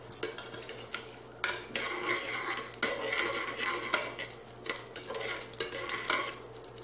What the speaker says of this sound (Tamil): எண்ணெய் நல்ல சூடானக்கில் போட்டதுனால வெந்தயம் உடனே பொரிஞ்சிடும்